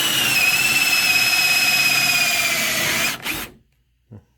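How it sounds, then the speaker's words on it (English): A loud, steady high-pitched whine of a hole saw cutting through a metal UTV skid plate for about three seconds, then it winds down and stops, followed by a brief clunk. "we're going to go ahead and drill this out right here"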